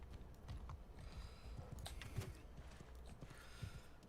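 Horse hooves in Mount and Blade: Bannerlord thud and clop quietly and continuously among low rumbling game ambience, with no clear talk.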